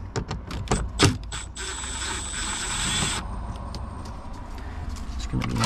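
A ratchet works loose the screws on a bracket during an ignition switch replacement on a 2014 Audi Q7, quick clicking bursts up close at the start followed by a steady mechanical whir and scraping.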